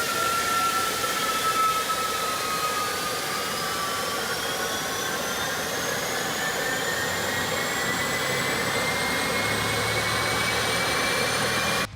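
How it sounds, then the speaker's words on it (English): A SubSonex small jet aircraft engine spins up with a steady roaring hiss and rising, sweeping whine tones that climb in pitch over several seconds, loud and continuous throughout. "you really can't beat that sound of starting a jet engine up."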